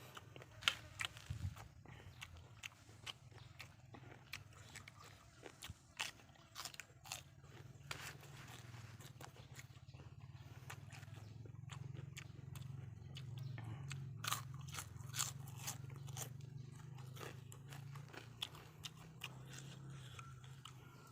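Someone chewing crunchy food while eating a Lao-style pounded rice-noodle salad, a long run of irregular close crunches and bites, fairly faint over a low background hum.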